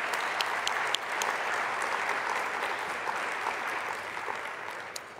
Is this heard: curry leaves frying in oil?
no